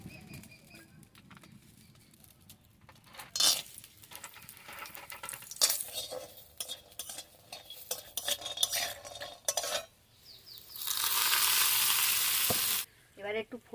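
A little oil heats in a pan for a cumin tempering, with scraping stirs and clatter, then a loud steady sizzle bursts up for a couple of seconds before cutting off.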